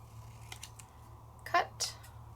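Scissors snip through craft paper in a few short, crisp cuts, close and quiet against a low background hum.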